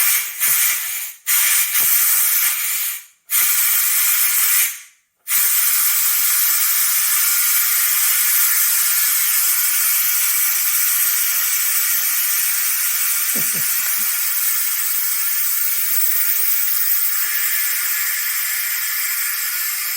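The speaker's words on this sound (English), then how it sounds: "so it's kind of done steaming and letting loose the steam." Steam hisses from an Instant Pot pressure cooker during prawn paella cooking, starting with a few choppy bursts before settling into a loud, continuous, close rushing hiss that lasts to the end.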